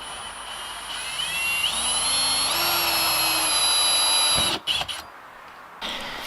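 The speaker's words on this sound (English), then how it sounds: "So we are going to drill a smaller hole from there, and then the water can drain out." A small power drill bores a drain hole in the fuel door of a BMW E90, a close, high whine that spins up in steps, runs steadily, then cuts off with short bursts after.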